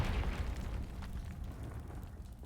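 A Confringo explosive spell goes off in Hogwarts Legacy, a broad rumbling blast that swells at once and then fades away over a couple of seconds, standing alone with no voices.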